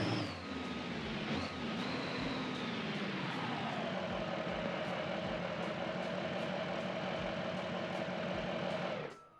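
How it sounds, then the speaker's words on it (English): A 2nd-gen Ram truck with a loud aftermarket exhaust in the video game BeamNG.drive idles steadily with a rumbling note, revving briefly at the start before settling into a constant drone, then cutting off. "I don't know why I put that loud exhaust on this truck."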